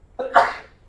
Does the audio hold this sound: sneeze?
yes